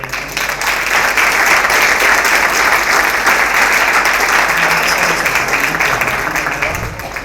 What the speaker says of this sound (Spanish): les deberíamos dar un fuerte aplauso a ellas dos y a todos